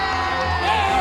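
Family and friends in a Masterchef Junior USA season 3 finale studio audience cheer and whoop, a brief burst of excited voices and shouts blending into a loud crowd sound.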